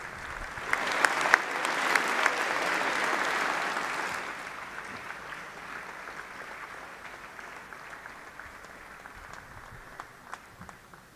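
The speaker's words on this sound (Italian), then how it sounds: "Un applauso per la straordinaria prestazione." At Palazzo Chigi in Rome, a gathered audience applauds tennis player Matteo Berrettini after his Wimbledon final against Novak Djokovic, strong clapping for about four seconds that then thins into a long, fading patter of scattered claps.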